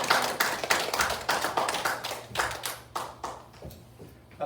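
Scattered clapping from a church congregation welcoming the pastor, a handful of fairly close, uneven claps that thin out and grow quieter toward the end.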